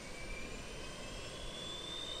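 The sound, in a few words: APU small jet engine running, Microsoft Flight Simulator 2020 video game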